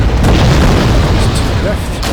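In Wargame European Escalation, explosions hit BMP armored vehicles: several booming blasts and pops rise over a constant rumble, with a voice talking over the top.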